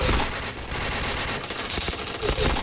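Dense, crackling bursts of automatic gunfire in the shooter game Point Blank, loud and continuous with rapid overlapping shots filling the whole stretch.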